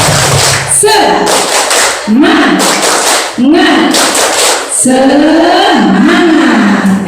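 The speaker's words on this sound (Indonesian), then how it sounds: "Tepuk semangat." A group of Indonesian teachers performs the tepuk semangat spirit clap, loud rhythmic bursts of hand claps in repeated patterns, with chanted voices riding over the clapping throughout.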